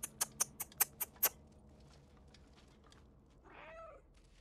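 In the video game Stray, a series of quick close taps or footsteps is followed after a pause by a short, faint cat meow.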